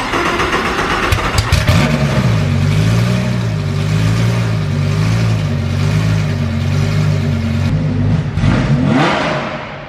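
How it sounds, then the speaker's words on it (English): A Lamborghini Huracan Evo fires up with a sharp starter crank, then a loud close-up engine roar and several rising and falling revs before settling, all without talk. "Cam firing up the Evo for the first time"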